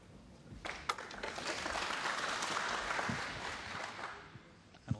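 The crowd at the Australian Goldfields Open snooker final applauds in a steady wash of clapping that swells and then fades, with a few sharp claps standing out near the start and end.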